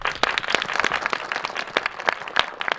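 Audience applause for the actors of a stage play, steady clapping with sharp individual claps standing out, moderately loud and close throughout with no talk.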